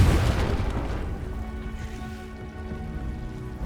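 Confringo fire spell exploding in a video game, a heavy boom that decays into a crackling, rumbling tail with a faint tonal hum, loud and close.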